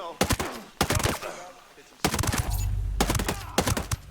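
Gunfire in the game Ghost Recon Breakpoint, loud close bursts of rapid shots in several clusters separated by short pauses.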